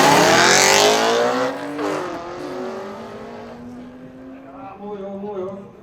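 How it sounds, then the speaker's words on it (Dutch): Engines roar loudly as BMW cars do wheelspins in a kickdown competition at a car event. The sound bursts at full volume, then fades, with revving pitch sweeps trailing off into the distance. "Deelnemers zijn klaar voor de Wheelspins Kickdown Competition."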